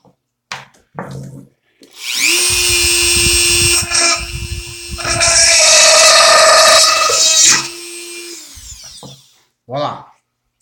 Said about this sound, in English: Hole is drilled.